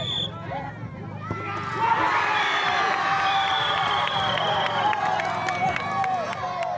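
A football crowd roars and cheers after a goal, a dense wash of shouting and babble with scattered whistles and claps building from a quieter start and holding loud and close throughout.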